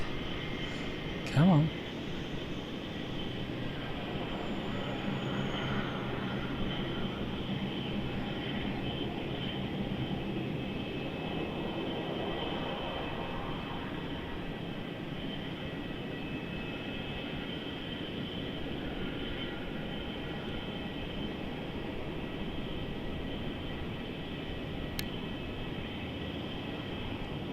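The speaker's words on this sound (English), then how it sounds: "Nicely done by the Jetstar A320, I believe." A Jetstar Airbus A320 passenger jet landing at Melbourne Airport, a long distant engine roar that swells and then settles, with people talking quietly over it.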